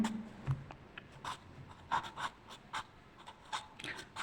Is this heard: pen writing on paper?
yes